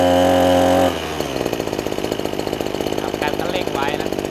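Maruyama BC260T two-stroke brush cutter engine, a steady tonal hum that shifts after a second into a rapid buzzing, knocking idle rhythm, close and loud, with a person talking briefly over it.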